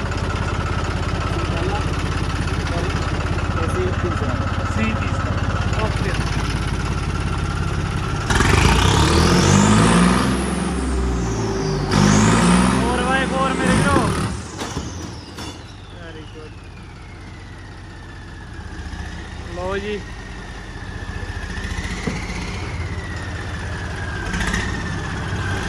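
A 4x4 vehicle's engine running steadily with a constant low rumble, then revving and whining through rising and falling pitch sweeps in the middle before settling back, with people talking over it.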